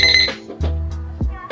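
A very loud alarm clock, one of six selectable alarm tones, sounds off in repeating bursts of shrill beeping with pulsing low tones beneath, close and piercing.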